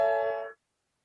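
A major 7th chord sounded on trombone, its stacked notes ringing together in one steady, clear tone for about half a second before cutting off cleanly, with no talking.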